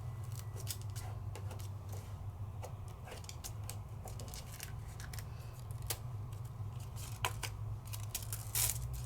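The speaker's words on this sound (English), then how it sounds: "I'm gonna peel up my sticky" Sticky adhesive backing peeled from a sheet during a craft project with rose gold foil, heard as soft intermittent crackles and tearing ticks over a steady low hum, no talking.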